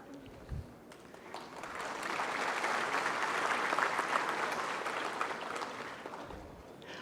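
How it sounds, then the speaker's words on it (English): Sustained audience applause swells at a mass enrolment and oath-taking ceremony for new advocates, honouring the Chief Justice. Clapping builds after a couple of seconds, holds steady and loud, then tapers off near the end. "give him a good applause"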